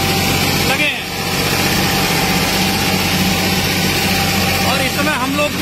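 Tractor engine runs steadily and loudly during flood rescue work in a submerged Uttarakhand town, a continuous close rumble with background noise and voices mixed in.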